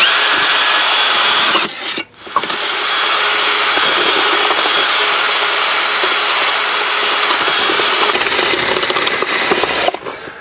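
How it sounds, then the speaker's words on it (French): Lime plaster is churned steadily while powder is worked into it, a loud continuous mechanical whirr with a brief drop in the middle and a short break near the end. "L'important c'est de brasser régulièrement pendant 5 à 7 minutes en incorporant donc votre poudre."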